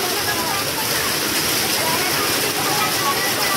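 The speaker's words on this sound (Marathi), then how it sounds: "आवाज येते तुम्हाला किती गारा पडतायत" Hailstones fall in a first-of-season village rainstorm with a dense, loud, continuous roar of pelting ice and water, and a voice is faintly mixed in.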